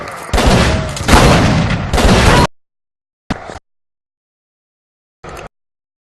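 Bursts of rapid gunfire in the video game Call of Cthulhu, a long dense volley followed by two short isolated shots with silence between, loud and close.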